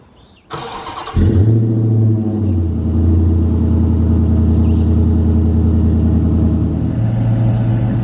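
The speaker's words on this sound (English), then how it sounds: "I'm gonna give you guys a cold start" A 5.7L Hemi V8 in a Dodge Magnum R/T with dual exhaust cranks and fires on a cold start, catching with a loud burst, then settling into a steady, deep, rumbling high idle that holds close and strong throughout.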